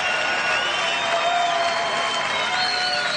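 Tennis crowd at the 2019 Mallorca final applauding and responding after a point, a sustained close wash of clapping with light cheering mixed in.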